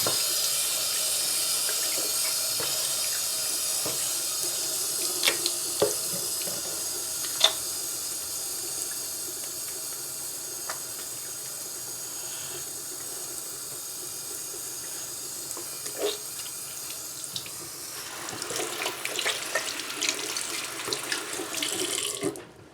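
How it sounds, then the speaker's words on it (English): A kitchen tap runs steadily into a sink for handwashing before baking peanut butter cookies, a continuous close hiss with a few small clinks and splashes, intensifying near the end. "First step, we need to wash our hands."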